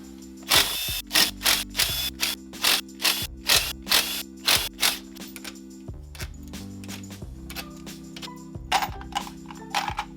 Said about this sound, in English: It's now time to remove the case bolts.